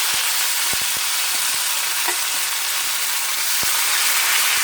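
Onion, green chilli and garlic sizzle steadily in a pan, a continuous close frying hiss broken by a few sharp clicks of a utensil stirring against the pan.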